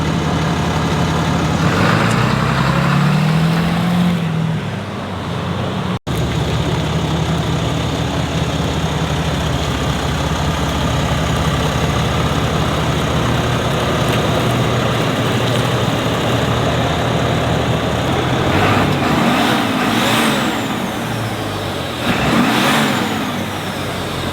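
A 5th-generation Cummins diesel truck engine runs loud and steady close by, a deep rumbling drone that swells slightly now and then.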